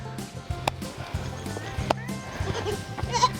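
Herd of 31 baby goats on a farm, with scattered short bleats near and far over shuffling and a brief thump or two.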